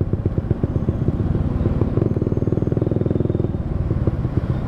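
A motorcycle being ridden on the road, its engine a steady, close, pulsing rumble with rapid regular firing beats that holds at a constant loudness from start to finish.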